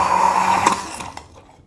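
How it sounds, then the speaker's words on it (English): An immersion blender whirs steadily while pulsing through sugar-free mayo, a loud close motor hum that wavers, then cuts off and fades to quiet near the end. "So again, I'm going to take my immersion blender,"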